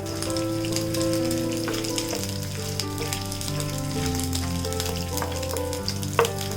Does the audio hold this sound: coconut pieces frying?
yes